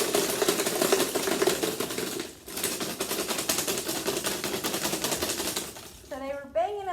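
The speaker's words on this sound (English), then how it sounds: "Right now there are just 3 sugar cubes in here, and I'm going to give it a good shake" Three sugar cubes are shaken hard inside a container, producing a fast, continuous rattling clatter of hard cubes knocking together, close and loud, with a squeaky tonal sound at the very end.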